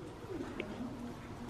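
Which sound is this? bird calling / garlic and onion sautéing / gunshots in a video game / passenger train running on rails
bird calling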